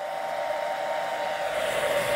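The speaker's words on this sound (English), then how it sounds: "it'll power your hair dryer on low speed" An Anker PowerHouse II 400 portable power station runs a hair dryer steadily on low speed, a constant close whooshing hum with no breaks.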